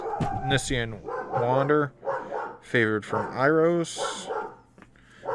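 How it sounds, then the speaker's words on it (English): A pet dog barks and yips excitedly at birds indoors, several close, loud barks at an uneven rhythm, mixed with someone talking over them. "I do apologize for my dog going nuts, because he likes to bark at birds"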